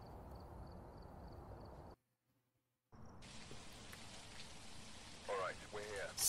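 Light rain patters steadily in the Phasmophobia ghost-hunting game, a soft continuous hiss that drops out briefly and then returns under faint sounds.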